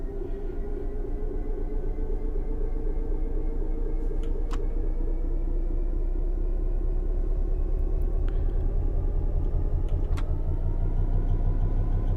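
A train in Train Sim World 4 on the East Coast Main Line pulls away after brake release in notch 3, a steady low engine rumble and drone rising gently in pitch, with a few faint clicks over it.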